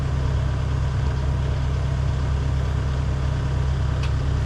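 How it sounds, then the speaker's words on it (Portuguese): Engine of a land-clearing machine idling while it warms up before work on ground being cleared for avocado planting, a steady low rumbling drone, close and constant, with no talking. "Enquanto ela tá dando uma esquentada no motor aí"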